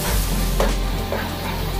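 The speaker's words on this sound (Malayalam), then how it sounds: "കുറേ സാധനങ്ങൾ മസാലകളൊക്കെ ഇട്ട് വീണ്ടും ഇളക്കിക്കൊണ്ടിരിക്കുകയാണ്." Spices and masala being stirred in a frying pan for an Eid home-cooked dish, giving a steady loud sizzle and hiss with soft scraping strokes across under two seconds.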